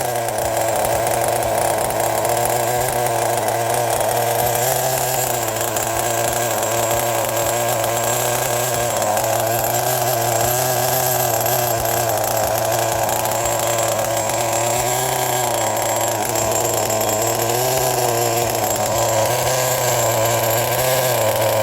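A CEN Genesis nitro engine runs continuously during break-in, a loud, steady, buzzing whine with slight wavering pitch, close up and unbroken for the whole stretch, no voices.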